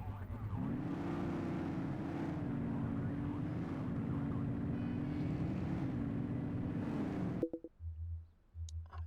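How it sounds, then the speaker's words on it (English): A loud racing car engine in a video game drones steadily at close range with slight pitch shifts for about seven seconds, then cuts off abruptly, leaving faint low tones and brief quieter sounds. "this car is very loud"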